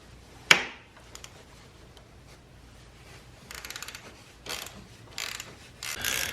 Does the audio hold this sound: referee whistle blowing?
no